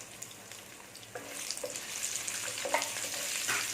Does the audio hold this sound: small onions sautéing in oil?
yes